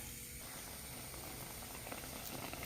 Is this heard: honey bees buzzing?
no